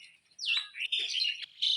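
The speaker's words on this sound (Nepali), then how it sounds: "यहाँ चराहरूको लडाइँ छ" Small birds squabbling, a quick series of sharp high chirps and a sweeping squeal, close and clear against otherwise quiet surroundings.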